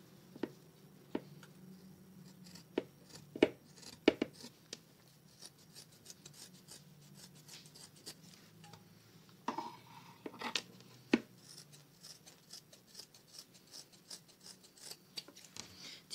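Scissors cutting fabric and interfacing for a sewn cap, quiet close snips and rasping rubs in irregular bursts with pauses between, no speech.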